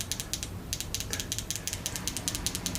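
A stuck fuel injector on a bench clicks internally each time a battery toggle switch is flipped, giving rapid, quiet, regular ticking pulses, close and alone without speech.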